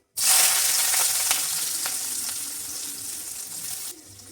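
Sliced onion and green chilli dropped into hot oil after tempering, an abrupt loud sizzle that bursts in and settles into steady bright frying with faint stirring clicks before it drops away near the end.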